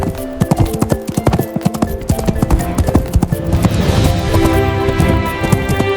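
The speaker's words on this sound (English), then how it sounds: "H for horse" Cartoon horse hooves clip-clop in a brisk, steady rhythm, loud and close, over a bright musical backing in a children's animated alphabet song.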